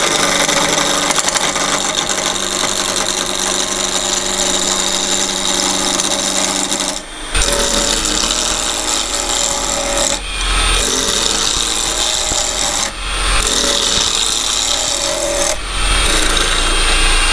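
A spalted maple spindle blank being turned into a cylinder on a wood lathe, with a loud continuous rough cutting roar from the gouge, broken by a few brief pauses, with no talk.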